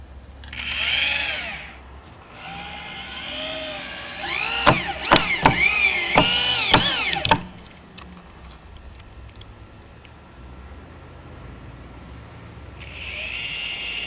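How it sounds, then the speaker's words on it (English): A power drill drives 1-inch screws through plywood decking on a skateboard halfpipe: several loud, close whirring bursts of rising and falling pitch, clustered in a rapid run midway, with quieter pauses between. "attach it to the plywood using 1-inch screws."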